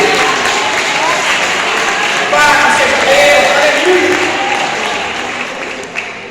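A church congregation applauds in a sustained, loud burst that gradually fades, while a preacher speaks over the clapping.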